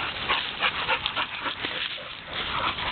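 Dogs scuffling and fighting, with a busy stretch of growls, snarls and yelping whines that comes in rapid bursts, close and loud, with no talk.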